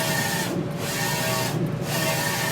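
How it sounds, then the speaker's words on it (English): A direct to film printer running a print job, giving a steady close mechanical whir and hum with two brief rhythmic shifts as the print head passes, alone without talk. "we're going to let this print a little bit more"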